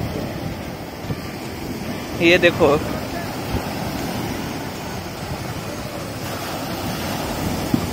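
Ocean waves wash steadily beside a long bridge at Koh Lanta Yai, Krabi, a constant broad surf hiss with some wind, and someone briefly speaks over it.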